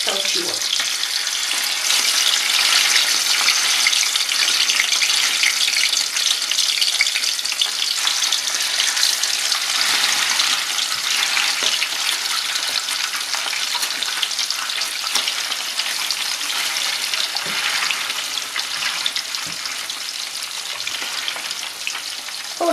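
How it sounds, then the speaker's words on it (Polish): Steady, loud sizzling of small salmon fillets frying skin-side down in a hot pan, a continuous crackling hiss that barely changes throughout. "ryby są dość małe, więc smażą się dość krótko"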